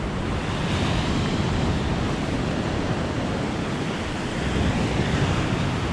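Sea surf on a stormy shore in Sudak, Crimea, with murky water pushing high up the beach; a steady, dense roar of breaking waves and wind noise that fills the whole stretch with no clear pauses.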